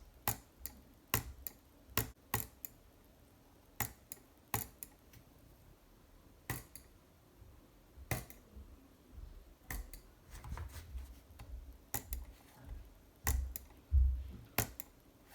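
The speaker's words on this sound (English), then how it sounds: "With triple clicking, you're gonna triple click with the middle of your finger like this." A Kain 100 Aimo computer mouse gives off sharp, crisp clicks, sometimes single and sometimes in quick clusters of two or three, close and clear with brief pauses between them.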